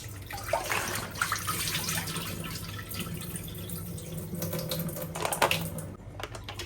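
Clams are rubbed and swirled in water in a kitchen sink to scrub off mud and sand, giving a continuous close wash of running water with small clicking shell knocks and splashes throughout.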